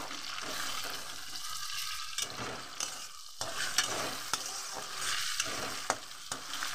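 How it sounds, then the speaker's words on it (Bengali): Garlic and chopped tomato fry in a hot pan for a chicken dish. A steady sizzle runs throughout, broken by scattered scraping knocks as a utensil stirs the food. "রসুনটাও আমি দিয়ে দিলাম, দিয়ে একটু ভাজা ভাজা করে নিলাম"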